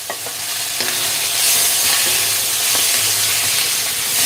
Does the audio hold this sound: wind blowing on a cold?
no